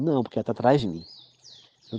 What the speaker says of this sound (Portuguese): eu estou ouvindo um passarinho cantando